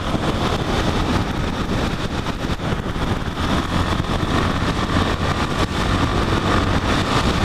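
A Yamaha XT660R Lander motorcycle fitted with an aftermarket exhaust rumbles steadily while riding, its engine drone mixed with constant wind buffeting on the microphone, loud and continuous.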